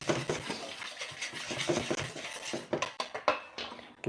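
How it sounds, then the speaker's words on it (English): A metal whisk beats rapidly against a bowl by hand while making a peach tarte tatin, producing close, scratchy, rhythmic scraping and clinking strokes that continue throughout with no talk. "Whisking up, whisking up."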